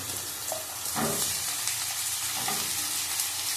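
Vegetables sizzle steadily in a pan with raw onions, along with radish and aubergine, a continuous close frying hiss with occasional stirring scrapes and no talking.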